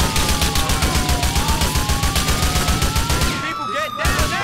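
Sustained rapid automatic gunfire from a GTA 4 firefight rattles loud and close in a dense rhythmic burst, then thins out near the end with whooshing effects.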